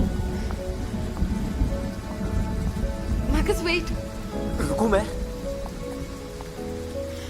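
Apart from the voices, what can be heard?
rain with thunder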